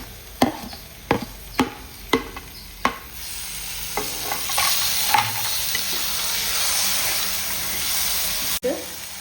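Ground tomato is sautéed and stirred in a pan, opening with a series of sharp rhythmic spoon taps, then a louder sustained sizzle with scraping strokes and a final clank.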